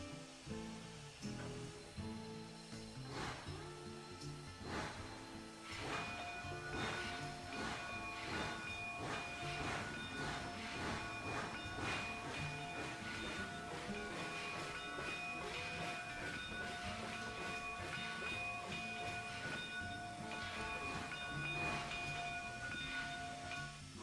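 A model locomotive on a railway layout rolls into a roundhouse at an engine terminal, producing faint rhythmic clanking and chuffing, a steady hiss and sustained whistle-like tones throughout, quiet and without talk.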